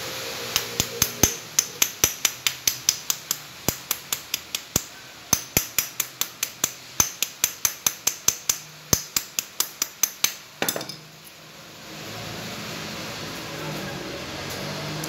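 An impression key worked inside a small padlock makes a rapid series of sharp, close metallic clicks and taps in an uneven rhythm for about ten seconds, then stops and leaves faint room hiss.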